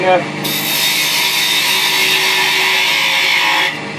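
A lathe spins as a tool trims the diameters of a wooden snowman ornament, giving a loud, steady scraping hiss that starts abruptly and holds evenly for about three seconds before cutting off.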